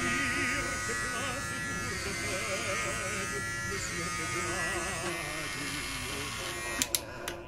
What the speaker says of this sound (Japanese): じゃけ大吾さん坊主ね